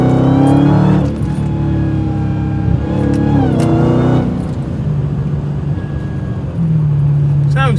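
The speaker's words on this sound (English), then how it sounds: "And kind of hear the exhaust." Exhaust of a Dodge Challenger Hellcat Redeye in sport mode, loud and close, revving in repeated rising surges with a rumbling idle between, a voice talking over parts of it.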